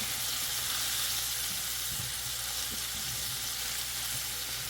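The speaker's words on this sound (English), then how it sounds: "So I'm going to go ahead and stir in all this garlic here" Garlic sizzles in a pan with chicken for butter garlic chicken, a dense continuous hiss with faint scrapes and taps of stirring underneath, steady and close throughout.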